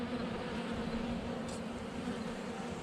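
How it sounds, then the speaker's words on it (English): Yellow jackets and bees buzzing around an open hive: a dense, continuous hum close by, steady and fairly faint, with no talking. "yellow jacket, man, they move in as fast as they can, especially if they have a hive open"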